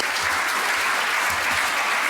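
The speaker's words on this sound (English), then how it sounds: "please give a warm round of applause for our panel" A conference audience gives a panel discussion on cyber-trust and digital engagement a warm round of applause, a dense, steady wash of many hands clapping at even loudness throughout, with no voices over it.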